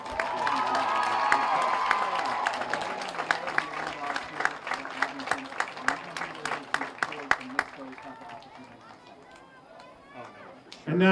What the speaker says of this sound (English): Please join me in a round of applause for our homecoming court.